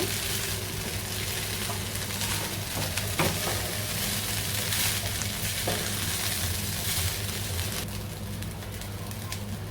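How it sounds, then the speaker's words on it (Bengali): Cooked basmati rice being gently stirred and fried in a pan for pulao, giving a continuous, fairly loud sizzle with faint scraping of the spoon throughout. "আমরা খুব আলতোভাবে সুন্দর করে চালটা ভেজে নিচ্ছি"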